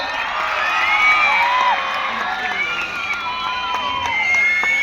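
At an Independence Day mallakhamb display by young children in Savadatti, a loud crowd cheers and whoops continuously, high children's shouts rising and overlapping with no pauses.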